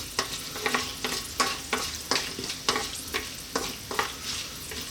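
Whole spices sizzle in hot oil for a vegan biryani. A steady crackling fry runs throughout, broken by regular, rhythmic scraping strokes of a spoon, close and fairly loud, with no talking.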